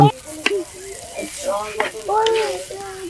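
Egg and noodles stirred in a hot pan while cooking outdoors in a village: a soft sizzle with scraping stirs in short bursts, and a voice talking over it.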